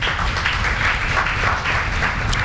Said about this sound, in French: Nous acclamons la parole de l'Éternel.